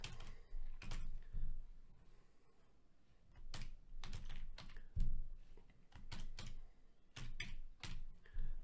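Close computer keyboard typing in quick bursts of clattering keystrokes separated by short pauses, with a thump partway through and no voices.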